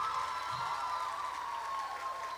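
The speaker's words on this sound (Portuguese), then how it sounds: "Você pode aplaudir Jesus essa noite." Church congregation applauding during an evening service, a steady wash of clapping from a crowd that holds at an even level throughout, with no speech over it.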